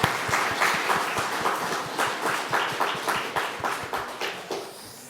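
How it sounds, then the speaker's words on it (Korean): A church congregation at a Sunday service claps in rhythm for the children of the winter English camp, a steady unison beat of hands that gradually fades. "박수를 보내도록 하겠습니다."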